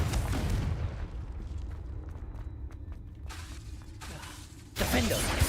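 Explosive Confringo spell bursts in the Hogwarts Legacy game, a loud blast opening the clip and fading into crackling debris and scattered impacts, then another sharp burst near the end.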